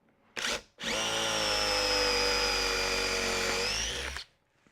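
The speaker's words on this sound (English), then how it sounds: "I could possibly be using a sharper drill bit," Electric drill with a not-so-sharp bit boring into wood during bench assembly, a short burst followed by one long, steady, loud whine of the motor biting through the timber.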